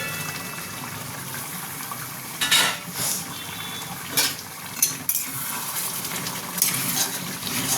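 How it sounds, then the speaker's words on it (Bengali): A metal lid is lifted off a pot of mutton bhuna with green chilli, a few brief clanks rising over a steady low kitchen hiss and faint watery bubbling. "এবার আমি ঢাকাটা সরাবো।"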